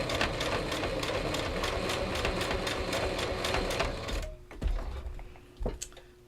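Home sewing machine stitching fabric ruffles with brown thread, a loud steady mechanical rattle of rapid needle strokes for about four seconds, then stopping abruptly with a few faint clicks and handling noises.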